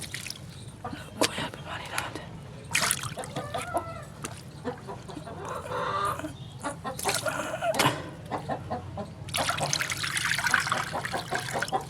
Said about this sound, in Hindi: ये वाला पानी जब अभी हम डालेंगे मुर्गियों को